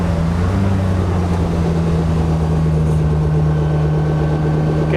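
A 3.0-litre stroker BMW M52 race car with something rubbing at the front, its engine droning steadily and loudly throughout with a constant low hum and no speech.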